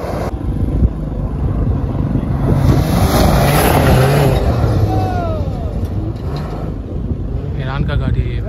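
Iranian off-road rally car arriving at a rally in Gwadar, a steady engine drone building and then holding under wind noise, with a crowd and someone talking over it.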